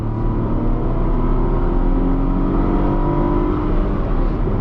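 A Tata Tiago engine revs hard while accelerating in first gear up toward 6200 RPM in manual mode, a loud, steady, rising drone of engine harmonics held continuously with no talking.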